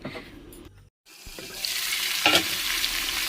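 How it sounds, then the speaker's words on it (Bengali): Potatoes fry in a pan: a brief hush gives way to a steady, bright sizzle that grows louder and fuller, with a sharp spike of hissing partway through as stirring or movement stirs the oil. "আমি আলুটা ভাজতে দিলাম"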